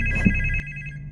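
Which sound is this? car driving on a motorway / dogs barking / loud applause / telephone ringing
telephone ringing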